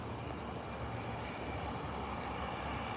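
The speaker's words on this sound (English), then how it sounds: "When I hear a jet on my left, I always think of what the jet it is." A jet airliner passes at Calgary airport, a steady, loud engine roar that fills the scene without rising or fading, with no talking.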